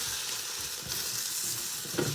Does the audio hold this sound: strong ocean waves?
no